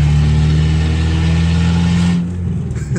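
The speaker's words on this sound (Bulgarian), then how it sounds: "what does it feel like to drive an American V8" An American 7-litre V8 car engine holds a loud, steady, deep drone, then cuts back after about two seconds to a lower, rumbling burble.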